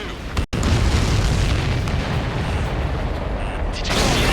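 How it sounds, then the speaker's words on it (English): Heavy, roaring explosion of a shot-down aircraft in the combat flight game Ace Combat 7: Skies Unknown, a loud rumbling blast that follows a brief cut of silence and sustains for several seconds, with no talk. "Did you see that explosion?"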